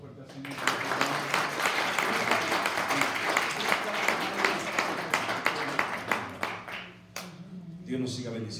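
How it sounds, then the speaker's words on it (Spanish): Loud applause from a church congregation fills the room at a sermon, dense and steady for about seven seconds before tapering, with voices mixed in underneath. "aplauso fuerte al Señor"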